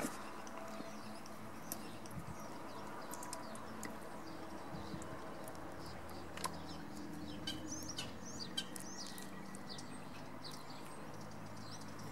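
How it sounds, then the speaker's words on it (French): Small birds chirp near the seaside, giving scattered faint tweets over a steady low background hum, with a few soft knocks and rustles close by. "Maintenant il y a des petits oiseaux."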